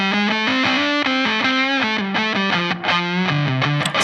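Electric guitar played through an octave fuzz pedal set to fuzz mode, giving a thick, saturated, distorted tone with a run of sustained notes and steady phrasing, loud and alone with no talking.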